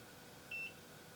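A single short electronic beep from a Nira hair removal laser sounds once, high and thin, over a faint background hiss, signalling the device is activated.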